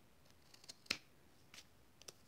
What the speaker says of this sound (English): I can take my scissors and I will just cut that off flush